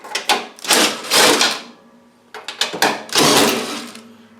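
Screws are backed out of a welder's metal cover with a power driver, giving two separate whirring bursts, each about a second long, loud and close with short rattles between them.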